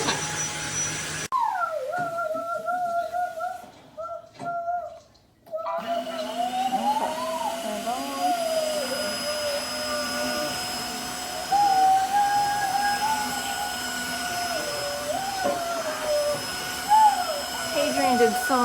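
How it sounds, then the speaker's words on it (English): A Tineco iFLOOR 3 Breeze cordless wet-dry vacuum cleans a floor and picks up gravel, giving a steady high motor whine. The whine cuts out briefly near the start, then runs on with small pitch dips. "It's a really nice vacuum as well."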